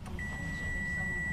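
A steady electronic car alert buzzer sounds continuously at a single pitch, with a fainter higher tone alongside, over a low background hum.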